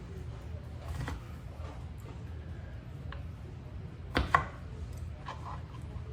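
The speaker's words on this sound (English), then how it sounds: "We're going to give this just a rough chop." A knife roughly chops Reese's peanut butter cups on a board, giving a few scattered soft taps and one sharper pair of cuts midway, close and fairly quiet.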